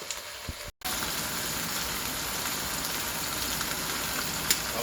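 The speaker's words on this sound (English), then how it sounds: "So we're going to let this sizzle." Italian pot roast meat searing in a hot pan, a steady close hiss and crackle of sizzling fat that holds evenly throughout after one very brief dropout near the start.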